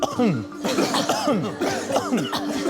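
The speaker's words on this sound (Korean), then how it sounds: "그러고서는 기침을 할 준비를 하시고요" A person gives several deliberate forceful coughs while pressing both hands on the abdomen, a rapid series of close, loud coughs in quick bursts with a throaty, voiced edge.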